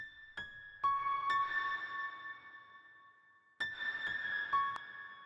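A few quiet piano notes and chords soaked in vintage-style reverb with a slow attack, so each note swells into a smooth, lingering wash; two separate phrases with a gap between, no voices.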